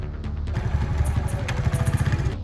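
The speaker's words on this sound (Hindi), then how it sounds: "वो आपका मोटरसाइकिल लेके जा रहा है।" A motorcycle engine chugs with a rapid, steady clatter as the bike pulls away, fairly close and loud, with no talk over it.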